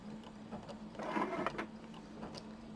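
A sewing machine stitches down a piece of green fabric for an embroidered Halloween-themed quilt square, a steady mechanical hum with a brief louder burst of stitching in the middle, fairly quiet and without talk.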